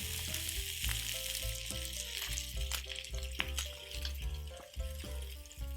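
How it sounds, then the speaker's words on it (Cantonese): Salmon skin crisps as it pan-fries, a dense, continuous sizzle and spatter close to the pan, holding steady and fairly loud throughout with no voices. "我哋就要均勻地咧將嗰個魚皮咧煎到香脆佢"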